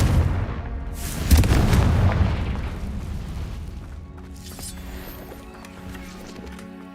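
A Confringo fire spell in the Hogwarts Legacy video game bursts in a deep, booming explosion. A crackling roar follows and slowly fades out, with a lighter second burst and some game sounds after it.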